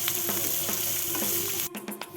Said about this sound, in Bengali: পেঁয়াজটা আমি 5 মিনিট ভেজে নিয়েছি